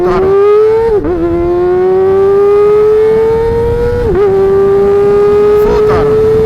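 A flashed-ECU motorcycle engine pulls hard at full throttle in first gear, its steady rising drone held loud and close for several seconds, with brief dips where the revs catch before it climbs again.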